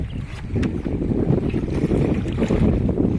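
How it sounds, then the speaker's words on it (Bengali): Strong wind gusting over an open fishing boat on a Sundarbans river as dark storm clouds gather, a loud, steady, low roar of wind buffeting the microphone with no voices. "আকাশ কালো মেঘে ছেয়ে আসতেছে আর প্রচণ্ড হাওয়া উঠে গেছে"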